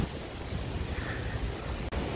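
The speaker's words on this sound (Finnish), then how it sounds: "Aika äkkiä se vaimenee toi veden kohina, kun tulee tähän ylös" A river rushes near the Ristafallet falls in Sweden, a steady broadband roar of water heard close and unbroken apart from a brief dropout near the end.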